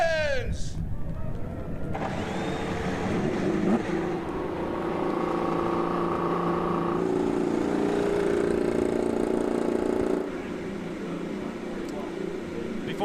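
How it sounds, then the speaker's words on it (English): IndyCar race cars firing up their engines at Watkins Glen International, a broad mechanical roar that holds steady for about ten seconds and then drops slightly, with a crowd or announcer voice underneath. "Drivers, start your engines!"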